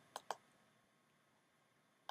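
A computer mouse gives two quick close clicks, then a pause and another pair of faint clicks in a quiet room.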